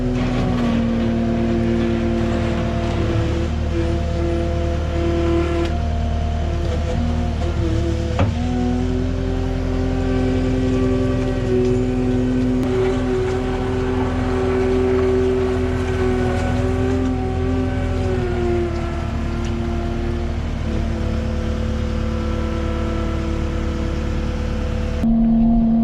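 A skid steer loading a Boss salt spreader runs its diesel engine at a steady, loud idle-to-mid throttle for the whole stretch, with a brief dip and bump where the load shifts partway through.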